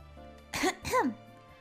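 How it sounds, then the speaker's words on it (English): A woman gives a quiet cough, two short throaty bursts in quick succession, close and soft against a faint steady background hum. "The snake girl, Maria Suarez, coughs quietly."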